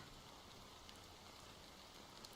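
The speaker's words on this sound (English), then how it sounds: "how long has this rain been going on for?" Steady rain pours in a scene from the video game Honkai Star Rail, a soft, even hiss of falling water that continues unbroken and quiet, with no voices.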